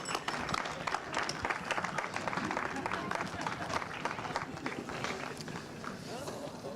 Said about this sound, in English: final round of applause for Mini